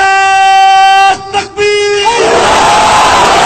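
A crowd at a protest sit-in in Jhelum roars a loud, unified chanted response to a Takbir slogan. The surging mass of voices starts sustained, dips briefly mid-clip, then swells again into a dense, continuous shout.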